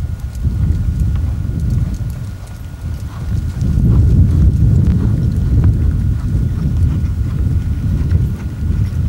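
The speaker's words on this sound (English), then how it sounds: "More jumpy, elastic connecting, that the horse jumps within an elastic frame." A horse canters in a riding arena, rhythmic dull hoofbeats thudding continuously and fairly close, with faint wind in the background.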